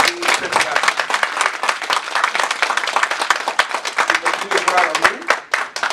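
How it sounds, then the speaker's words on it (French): An audience claps at an international colloquium, loud, sharp individual claps merging into lively applause that continues for several seconds with a voice faintly audible beneath. "André, je voudrais que vraiment vous applaudissiez."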